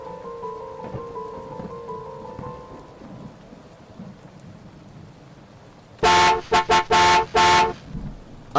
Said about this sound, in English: Irene heard it honk.